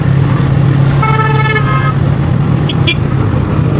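Busy road traffic with a steady engine rumble and a car horn honking for about a second midway, followed by a brief higher toot, all close and loud.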